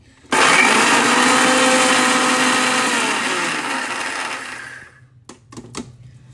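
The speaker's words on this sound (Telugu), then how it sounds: "మూత పెట్టి మళ్ళీ ఒకసారి మిక్సీ పట్టుకోవాలి" A mixer grinder whirs loudly for about five seconds grinding spices with chilli powder, winding down, followed by a few short pulses.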